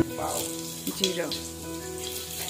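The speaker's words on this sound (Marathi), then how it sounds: "तेल तापलेलं आहे, जिरं टाकलं साहेबांनी" Cumin seeds dropped into hot oil in a home kitchen pan hiss and crackle in a steady sizzle, close by, with a brief clatter partway through and no voices over it.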